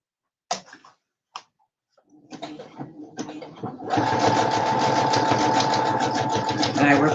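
A sewing machine stitches a seam, starting with a few isolated clicks and slow, uneven stitches, then settling into a fast, steady rhythmic whir that runs loud and close to the end.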